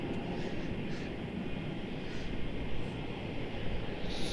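An airliner taking off from Melbourne Airport without using the full runway length, a steady, moderately distant jet roar that holds level and swells slightly near the end, with no talk over it.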